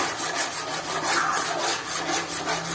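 A heavy pan of Srivilliputhur paalkova, a thick milk sweet, is stirred on the stove, giving rapid, rhythmic scraping strokes with a steady, close-up rasping texture throughout.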